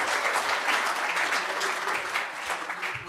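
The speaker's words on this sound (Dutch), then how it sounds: "Mag ik een daarvoor applaus?" A room of guests at a Rotterdam club event applauds John de Wolf, producing loud, dense clapping that swells and then slowly tapers over a few seconds.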